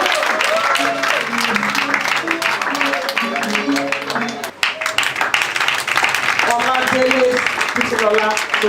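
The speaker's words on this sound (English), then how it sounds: "Please a round of applause." Audience applause at the LSLS 2017/2018 graduation ceremony after a first-prize announcement. Crowd clapping runs underneath loud voices, cheering or singing along with a sustained, lively din that stays close and loud throughout.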